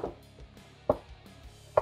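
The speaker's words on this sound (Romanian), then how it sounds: "Luăm cuțitul și mergem după ea." A knife chops through a vegetable on a board while preparing a puree, three sharp distinct thuds spaced about a second apart, close and clear with no talk.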